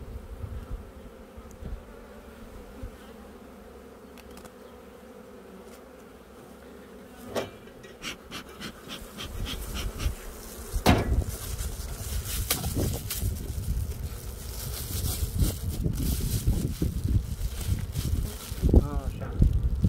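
Honey bees buzz steadily around an opened beehive during a varroa check at an apiary, a dense close hum that swells louder in the second half, with handling knocks and occasional speech mixed in.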